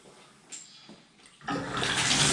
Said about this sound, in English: So we'll go ahead and turn the water on and verify there's no leaks.